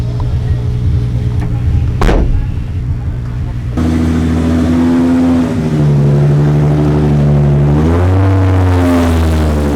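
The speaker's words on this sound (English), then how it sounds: "Go back down to the back end of the paddock, as we can see tyres being warmed on the back of Paweł Komalinski's S14." A Nissan S14 drift car revs hard in the paddock at a Drift Masters Grand Prix round in Spain, warming its rear tyres. The engine is loud and close, holding high revs that rise and fall, with a sharp burst early on.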